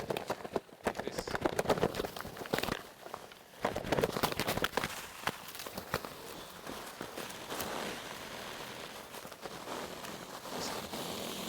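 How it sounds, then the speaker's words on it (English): Ruffs ruffling the feathers on their necks make dense, close rustling and rapid papery flutters, with sharp bursts early on and then a steady busy patter throughout. "It's the sound of them roughing their feathers."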